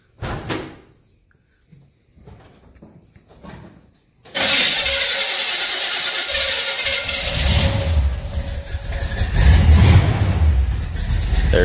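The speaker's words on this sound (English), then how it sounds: "Fire it up and turn it." A 1972 Chevrolet C10 truck engine cranks and catches at about four seconds, then settles into a loud, steady idle close by that swells slightly toward the end, with no talk over it.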